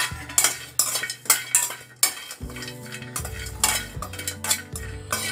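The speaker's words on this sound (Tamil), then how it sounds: "கொப்பரையும் வறுத்தாச்சுங்க" Dried coconut (copra) is dry-roasted in a pan while a metal spoon scrapes and clinks against it in quick, rhythmic strokes, close and fairly quiet.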